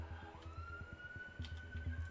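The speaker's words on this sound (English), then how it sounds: "but you don't need to send the sirens. Actually, can you not send the sirens?" A siren sound effect in a Minecraft livestream plays continuously, with a steady rising tone over a low rhythmic pulsing background, moderately quiet throughout.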